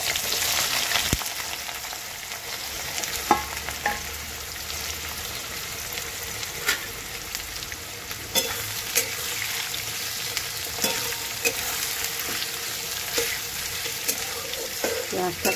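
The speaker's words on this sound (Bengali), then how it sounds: "পেঁয়াজটাকে ভেজে নেব" Chopped onions fry in hot mustard oil in a wok with bay leaves and whole garam masala, giving a steady bright sizzle with occasional scraping stirs and clinks.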